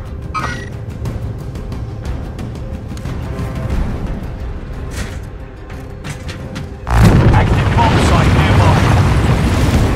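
Warzone video game combat: heavy explosions and gunfire rumble continuously, growing much louder and denser in the last few seconds, with shouted voice lines mixed in.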